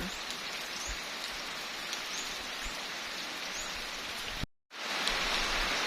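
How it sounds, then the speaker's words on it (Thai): Heavy storm rain pours down in a dense, steady hiss that holds at the same loudness throughout, broken only by a brief dropout near the end. "ฝนตกแต่เช้าๆยังบ่เสาอยูป่านนี่เก้าโมงได้นี่"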